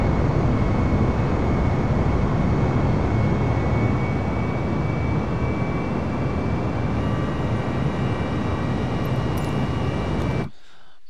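Jet airliner engines roar at a steady, dense level during an Airbus A320neo takeoff from JFK International Airport in Microsoft Flight Simulator 2020, with a continuous broadband rumble and faint tones above it, cutting off abruptly near the end.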